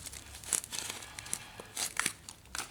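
Packaging crinkling while an i3TEOS lamp is unboxed, soft close rustles and crackles in irregular bursts, quiet overall with no speech.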